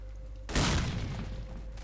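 A grenade blast and gunfire erupt in the combat game Diversant, a sudden loud boom that rolls into a dense, noisy burst filling the rest of the moment.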